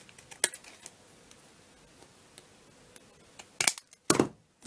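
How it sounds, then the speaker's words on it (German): Scissors snip through a paper breakfast bag while cutting out a pointed shape for a Christmas star, with a couple of loud, close crisp cuts near the end after sparse faint ticks. "Lege oben die Spitze darauf und schneide mir einmal die Spitze aus."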